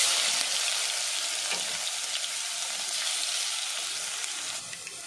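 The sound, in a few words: garlic paste frying in hot oil, stirred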